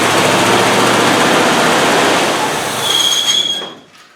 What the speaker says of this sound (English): the wire's off the oil pressure switch, where hopefully we can hear the pump run